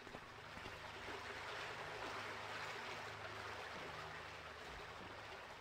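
Water sloshes and trickles continuously as a character wades through it in the stealth game Thief, a faint, steady watery wash with low rumble beneath; no talking.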